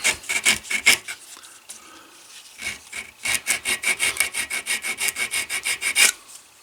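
A wooden hammer handle is sanded by hand with 80 grit sandpaper. A few scrapes come first, then a steady run of quick, rhythmic rasping strokes up close, with no talking.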